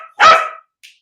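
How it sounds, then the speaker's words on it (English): A single sharp, loud bark from a dog being trained to bark on cue, close to the microphone, followed by a brief faint yip and then silence. "So I like to distract a barking dog."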